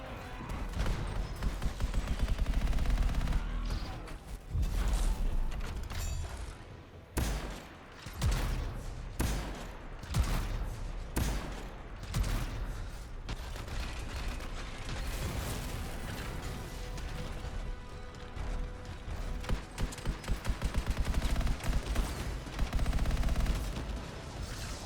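Rapid bursts of automatic gunfire from the video game Anthem crackle in close, loud volleys with short pauses, alongside game effects and impacts.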